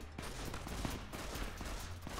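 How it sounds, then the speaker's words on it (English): Rapid bursts of gunfire from a firefight in the video game Fallout: New Vegas, dense overlapping shots running loudly and continuously without a break for the full length. "Veronica, are you really just walking through gunfire?"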